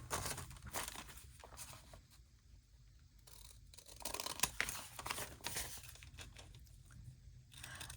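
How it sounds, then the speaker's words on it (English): Scissors cut through paper along a line at a craft project, giving faint close snipping and rustling sounds in irregular bursts with no speech. "I think we can do it scissors in a line."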